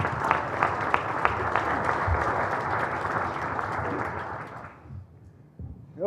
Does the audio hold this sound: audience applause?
yes